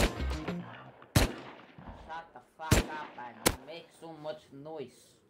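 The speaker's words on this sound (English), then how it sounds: "You shoot all day, man. You make so much noise." Gunfire in the survival video game Rust: three sharp, loud gunshots ring out between players' excited talk, spaced irregularly over a few seconds.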